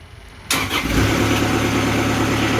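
A sawmill engine cranks and catches after a short quiet start, then settles into a loud, steady mid-pitched idle close by.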